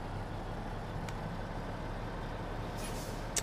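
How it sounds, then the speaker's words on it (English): Engine brake (J-brake) of a truck in American Truck Simulator: a continuous low, throbbing diesel rumble held at steady moderate loudness, with a faint hiss near the end. "So the J-brake sounds really nice. It is not overwhelming loud, and it actually stops the truck."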